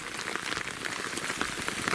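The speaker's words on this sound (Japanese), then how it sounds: "雨降ってるし" Rain falls steadily at night near the old Sawayama Tunnel in Shiga, Japan, a continuous close hiss of drops spattering on surfaces with no voices over it.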